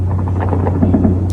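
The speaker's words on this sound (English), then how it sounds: "that's the hum of the motor and stuff that you're hearing in the background" A ship's motor hums steadily on board, a loud constant low drone with a faint throbbing pulse throughout.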